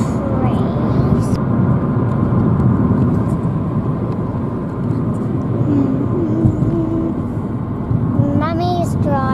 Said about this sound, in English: Oh, there's a car moving.